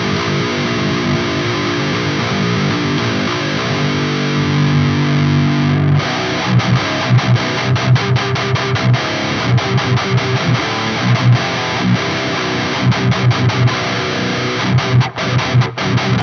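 Electric guitar through a Neural DSP SLO-100 amp plugin at high gain, played in a 2008 Myspace-style deathcore manner: heavily distorted sustained chords, then tight palm-muted chugging riffs with sharp stops, loud and with no talking.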